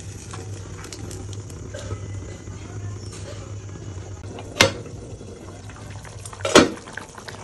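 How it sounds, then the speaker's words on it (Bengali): Chicken curry with plenty of added water simmering in a pot, a steady low bubbling hum throughout, broken by two sharp metallic clinks of utensils against the pot. "এবার এটাকে ফুটতে দেবো 10 মিনিটের জন্য"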